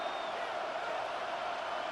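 A stadium crowd at a football game roars in a steady, dense wash of cheering, with no single voice standing out, as though heard from within the stands.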